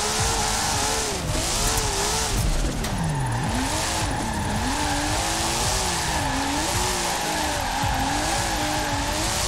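A Nissan Skyline R34 drifting in Forza Horizon 4: continuous engine drone with wavering pitch as revs rise and fall, under sustained, loud tire squeal through the slides.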